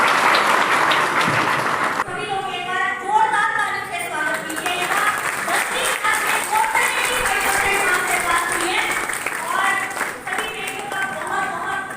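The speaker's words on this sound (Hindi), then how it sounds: "मैं चाहूंगा कि तालियां बजाकर उनका हौसला अफजाई करें" People at a community gathering clap for students honoured for good 10th and 12th grade marks. The applause is steady and fairly loud, with scattered voices talking and calling over it.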